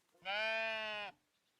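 A sheep bleats once in the cozy building video game Tiny Glade, a single clear drawn-out bleat of about a second, close and alone against near silence.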